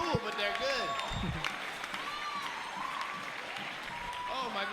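Crowd applause and cheering fill a ballroom at a Solo Charleston dance competition, ILHC 2013, steady and loud throughout, with whoops and voices talking over it.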